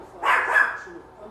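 A dog named Ethel gives a single sharp, close bark that trails off into a short whine, with a faint voice in the background.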